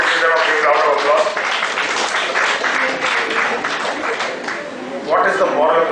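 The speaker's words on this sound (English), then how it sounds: "The rest of them can also give them a big round of applause." Audience applause at a rankers' meet inauguration session, a loud continuous patter of clapping from a hall that swells again near the end, with voices mixed in.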